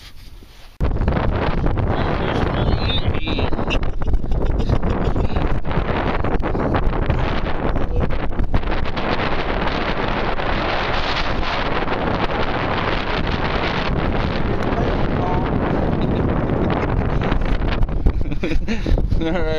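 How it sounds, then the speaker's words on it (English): Loud, steady wind gusts blowing over a field buffet the microphone in a continuous roar that drowns out other sounds. "It's a bit windy."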